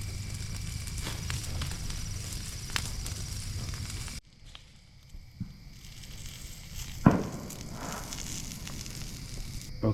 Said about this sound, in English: we're just going to be hanging out by this campfire